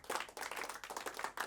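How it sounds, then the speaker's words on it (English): Sustained audience clapping and applause at a live show, dense and continuous throughout, with no talk over it. "Why are they clapping so long?"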